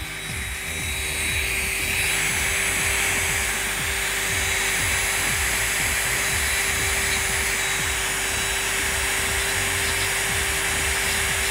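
An electric nail drill sander set to 15,000 RPM whirs at a steady high pitch, running continuously and close up after a brief quieter start.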